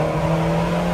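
Car driving and accelerating, a steady engine drone with a strong low hum filling the whole moment, close and loud, no voices over it.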